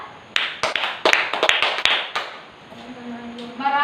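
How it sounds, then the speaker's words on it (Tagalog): A classroom of children claps for the second group of students after their skit, a few sharp scattered claps and taps close by, then a brief lull and some voices before more clapping begins. "ating palakpakan ang ikalawang pangkat"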